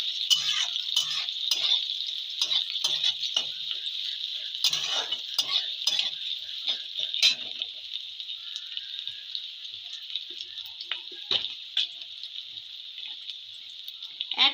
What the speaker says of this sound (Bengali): আর একবার নেড়ে দেবো।